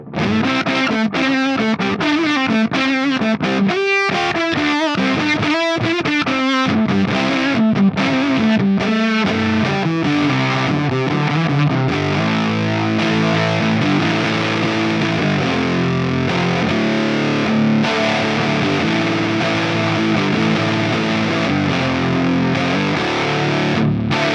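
Electric guitar played through a Way Huge Swollen Pickle MKII fuzz pedal, loud and thick with saturated distortion: choppy, stabbed riffs at first, then sustained, ringing fuzzed chords, with no talking.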